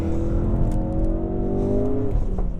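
A 2016 Ford Focus RS in drift mode drives hard, its engine droning loud and close with steady harmonic tones that rise slightly and then shift as it pulls through a gear.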